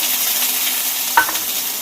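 Small onions, garlic and a large onion fry in hot sesame oil with mustard seeds while being stirred, a loud steady sizzle broken by one brief spatula scrape.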